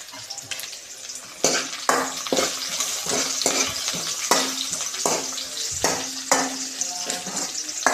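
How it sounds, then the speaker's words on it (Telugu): Onions and curry leaves sizzle in a tempering of oil and chillies in a pan, a crackling fry punctuated by a regular series of sharp spatula knocks and scrapes against the metal as it is stirred. "తాలింపు అయితే చక్కగా ఫ్రై అయింది కదండి"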